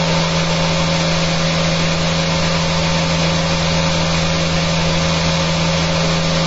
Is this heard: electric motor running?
yes